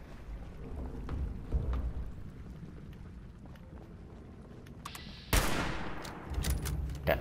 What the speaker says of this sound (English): Yeah, you're shooting so fast, you're firing too.